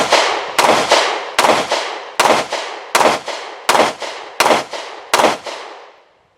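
A Girsan MCP35 pistol fires eight loud, close shots at a steady pace of about one every three quarters of a second, each crack trailing off into a short echo, with no voices.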